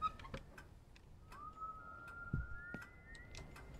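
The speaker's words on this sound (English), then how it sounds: "Oh, hell no, the whistling again." A thin, eerie whistle in the video game Remothered holds a steady tone that slowly rises in pitch, while faint ticks and clicks sound around it.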